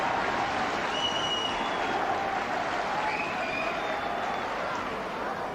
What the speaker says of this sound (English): some warm applause for the Hearts fullback